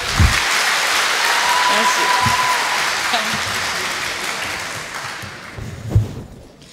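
Applause fills an award ceremony hall, a broad clapping wash that slowly thins toward the end, with faint voices and a couple of soft thumps underneath.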